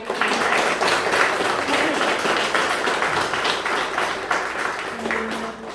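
Steady crowd applause for an award laureate at a prize ceremony in Annopol, many people clapping continuously at an even, fairly loud level for several seconds with no voices over it.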